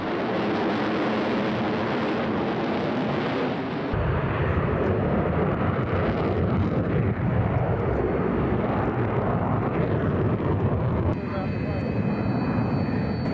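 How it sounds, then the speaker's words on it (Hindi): A Sukhoi Su-30 MKI fighter jet roars loudly and continuously overhead, its broad engine blast filling the sound throughout with a shift in tone partway; no speech rises above it. "सुखोई जब आसमान में गरजता है तो दुश्मन का दिल दहल उठता है।"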